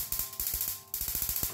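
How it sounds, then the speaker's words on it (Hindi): A gas stove burner being lit in a home kitchen: a rapid, even series of sharp ratcheting clicks from the igniter, close and fairly loud, pausing briefly midway before clicking again, with no speech. "इसका फ्लेम ऑन करती हूँ"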